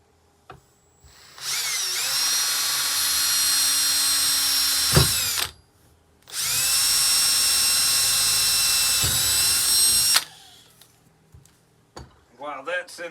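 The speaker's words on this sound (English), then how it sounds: "And that way I can drill straight through right here." Power drill boring straight through a pipe while building a packable bowsaw, two sustained high whining bursts of several seconds each separated by a short pause, loud and close with no talk over them.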